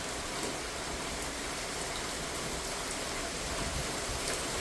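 Steady rain falls across a backyard, a dense, even hiss of drops on surfaces that holds constant throughout with no voices.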